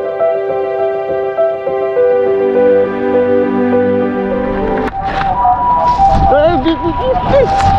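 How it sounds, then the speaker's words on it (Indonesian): An ambulance siren passes on a snowy morning street in Fukuyama, Japan, its loud, steady wailing tones giving way to rising and falling sweeps as a voice talks over it. "Ambulans, ambulans."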